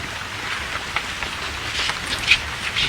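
Rain falls steadily outdoors at night on an open spot where students sit studying under a lit bulb, a soft continuous patter with scattered louder drops close by.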